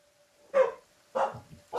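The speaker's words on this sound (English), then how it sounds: "Sorry if you guys hear my dogs in the background." Pet dogs bark indoors in the background of a home, giving three sharp, separate barks about half a second apart, moderately loud against an otherwise quiet room with a faint steady hum.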